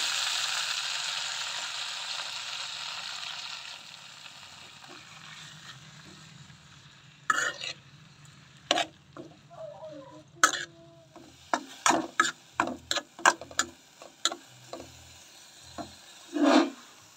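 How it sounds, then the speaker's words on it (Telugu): Fresh mint leaves fry in hot oil in a kadai, a soft steady sizzle that fades over several seconds, followed by sharp scattered clinks and scrapes of a spatula stirring the pan. "ఇప్పుడు అదే నూనెలో పుదీనా వేసుకుని బాగా మగ్గనివ్వాలి"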